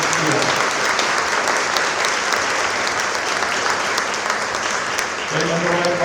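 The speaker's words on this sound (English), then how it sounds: "Let's have a round of applause" Sustained applause from a live cabaret audience fills the space, steady and fairly loud for several seconds, with a voice returning over the clapping near the end.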